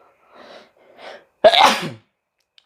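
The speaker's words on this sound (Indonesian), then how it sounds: "Bersin." A single loud, close sneeze bursts out after two soft preceding breaths, then quiet follows, heard amid a FIFA 22 career mode football game session.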